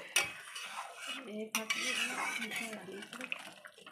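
Hog plums go into a vegetarian vegetable curry and are stirred in a pot, with close metallic scraping and clinks of a spoon against the pan over a soft sizzle, in short irregular strokes.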